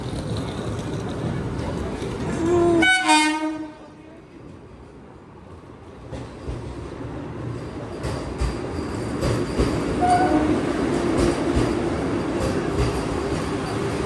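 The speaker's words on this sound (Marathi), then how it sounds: "हे बघा आपली ट्रेन आली आता." A train pulls into a station platform with a rumbling roll, a short horn-like tone and clattering wheels, then settles into a steady background rumble while people talk nearby.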